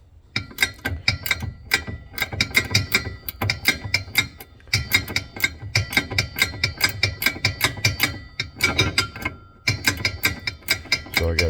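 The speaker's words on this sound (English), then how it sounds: "So now with an 11/16 ratchet style open end, box end, I've got that in here" 11/16 ratchet wrench loosening a swivel fitting on a pressure hose reel, close rhythmic ratcheting clicks in repeated quick runs with short pauses between strokes.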